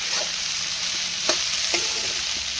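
Okra tempered and frying in a pan for a buttermilk okra curry, a constant bright sizzle with a few soft clicks of stirring.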